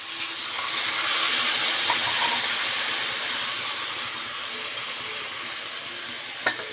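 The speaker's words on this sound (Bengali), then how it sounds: "আমি এর মধ্যে এবারে জল দিয়ে দেবো" Water hits hot frying curry in a pan and sets off a loud, sustained hissing sizzle with steam, which slowly eases off, followed by a small clatter at the end.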